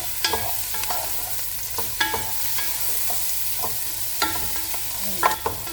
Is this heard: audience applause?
no